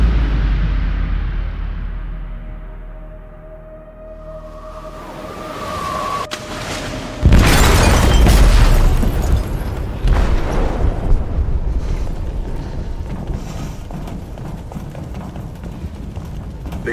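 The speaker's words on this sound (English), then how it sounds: "They detonated an explosive in the hold." An explosive detonates in a ship's hold in Detroit: Become Human, a sudden loud blast with heavy rumbling debris and roar that lingers after a tense, building lead-in.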